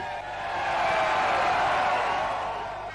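Adelaide Crows football fans cheering together as a broad, steady crowd roar that swells and holds, loud and close, with no clear speech over it.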